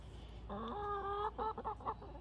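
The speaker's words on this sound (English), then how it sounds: "Can you hear this chicken?" A single chicken clucks a drawn-out note followed by a few quick, choppy clucks, close by and fairly quiet.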